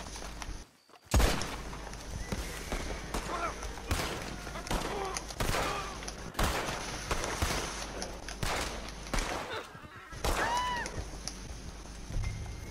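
Gunfire in Red Dead Redemption 2 Online during a bounty fight against cultists: repeated sharp shots in scattered bursts, some clustered, over galloping hooves and game sounds, with someone talking intermittently.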